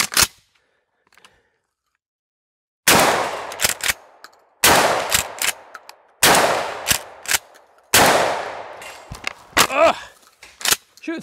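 A Mossberg 500 shotgun fires five loud, sharp shots at steel targets after a short silence, each blast trailed by quick ringing clanks of struck steel and rattling echoes.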